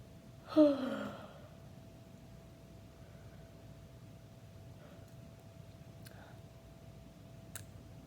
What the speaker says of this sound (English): I'm gonna yawn a few times